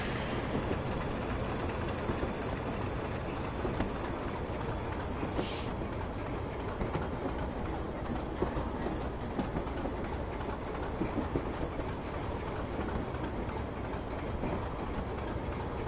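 Class 25 diesel locomotive running on the Western Lines of Scotland in Train Simulator 2015, a steady broadband rumble and rolling noise throughout with faint rhythmic clicks and no talk.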